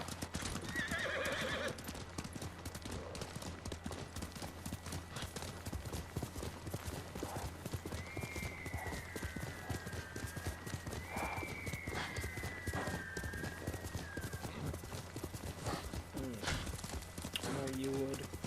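Horse hooves clip-clop steadily in Ghost of Tsushima, a rapid even rhythm of hoofbeats running throughout, with a horse's whinny near the start and a voice speaking over part of it.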